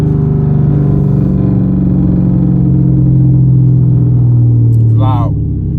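Modified Chrysler 300 RT exhaust idling with a deep, loud, steady rumble close by, likened to a Hellcat; a brief voice cuts in near the end.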